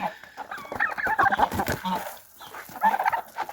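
Nasal, honking calls from a bird repeat in bursts, fairly close and loud, with short gaps between them.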